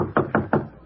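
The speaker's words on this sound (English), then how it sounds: "Somebody thumped on my door." Three evenly spaced dull thumps on a door, made as a sound effect for an old-time radio comedy show. The knocks are close and solid, heard alone.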